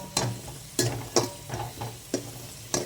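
Cashews and raisins frying in hot ghee, stirred with a utensil: a soft, steady sizzle broken by sharp, repeated taps and scrapes at an uneven rhythm.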